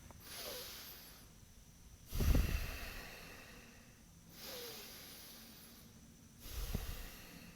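Long, deep breathing down to the diaphragm, with slow, airy inhales alternating with heavier exhales in an even cycle, close and fairly quiet with no talking.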